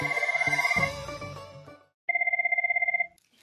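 A telephone rings in two bursts of rapid trilling bell tones, the first fading out before a clear second ring starts after a short gap, close and fairly loud with no talking.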